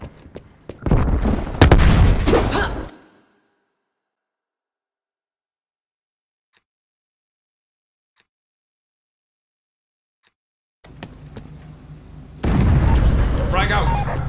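Frag grenade blasts and gunfire in a first-person shooter match: two loud bursts of booming, crackling noise separated by a long stretch of near silence.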